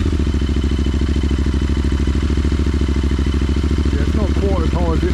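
Royal Enfield Interceptor 650 motorcycle engine idling hot at around 1500 revs, a close, steady, even low thrum that runs throughout, with brief clattering at the end.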